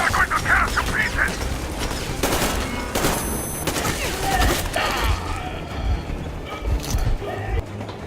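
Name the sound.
gunfire in the video game Metro Exodus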